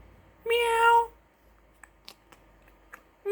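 A person imitates a cat with one drawn-out, nasal meow, followed by a few faint clicks and the start of another sound.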